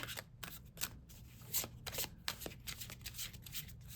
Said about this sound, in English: Let me pull one oracle card.